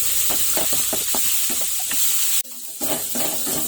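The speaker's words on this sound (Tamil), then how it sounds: "இஞ்சி பூண்டு பேஸ்ட் நல்லா பச்சை வாசனை போற அளவுக்கு வதக்கிக்கலாம்." Ginger garlic paste sautéing with onions in a pan for Kerala-style chicken makes a loud, steady sizzle with rhythmic scraping strokes from stirring, briefly dropping off before the frying hiss resumes.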